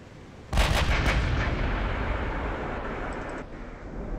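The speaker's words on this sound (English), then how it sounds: "And now he's firing back from his battleship." Battleship main guns firing in the naval warfare game Ultimate Admiral: Dreadnoughts, a loud close salvo of several heavy booms in quick succession trailing into a long rumbling roar, with no talking.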